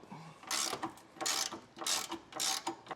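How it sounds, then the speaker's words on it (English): A ratchet with a 15mm socket loosens bumper bolts on a 2025 Chevrolet Silverado, producing four even bursts of rapid close clicking with brief pauses between strokes. "Right here is going to be a 15mm socket. So we'll get that taken off"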